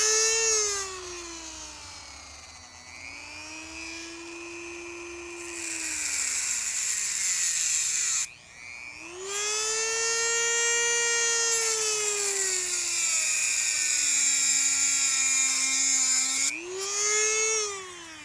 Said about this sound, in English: so to cut a drill bit